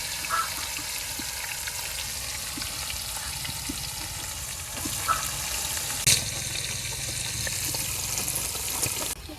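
Bitter gourd pieces fry in very hot oil, a steady loud sizzle and crackle running throughout with occasional sharper pops and stirring clatter.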